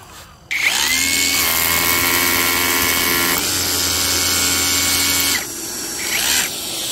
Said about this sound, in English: I need to drill a couple holes in here for my additional lock